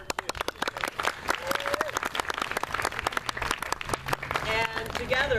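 An audience at a theatre performance of A Midsummer Night's Dream applauds with sharp, close handclaps that build into full applause, with voices heard in the room toward the end.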